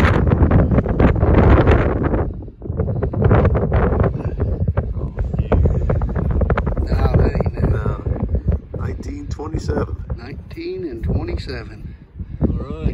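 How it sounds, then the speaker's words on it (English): Heavy wind buffets the microphone in loud rumbling gusts while people talk outdoors in a field in Kentucky over the roar. "Really windy."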